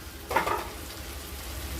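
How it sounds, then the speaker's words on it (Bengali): Mashed potatoes frying with spices and chopped coriander in a pan, a brief burst of stirring and sizzle near the start that settles into a low, steady background hiss. "আলুর সাথে আমরা মশলাটাকে ভালো করে ভাজা ভাজা করে নেব।"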